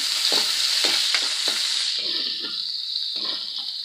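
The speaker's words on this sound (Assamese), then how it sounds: "এতিয়া ইয়াতে পিঁয়াজখিনি দি দিম।" Onions fry in hot oil in a pan for egg masala curry, hissing in a steady close sizzle with repeated stirring scrapes and no talk.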